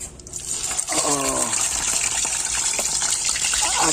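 Fish fries in hot cooking oil, a loud, continuous crackling sizzle that swells just after the start and keeps going, with a brief voice-like sound early on.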